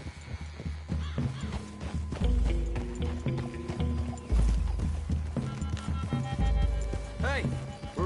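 Horses walking in the Red Dead Redemption 2 video game, with clip-clop hooves thudding at a steady pace beneath game music and other in-game sounds.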